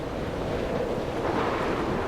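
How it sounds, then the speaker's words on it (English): Steady wind in a video game, Dear Esther, blows in a continuous rushing wash, even and unbroken throughout, with no voices. "Windy, wind."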